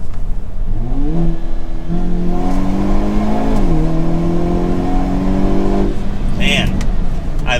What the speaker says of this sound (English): Let's do launch control once again.